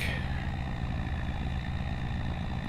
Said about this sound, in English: This truck does sound like a big old truck.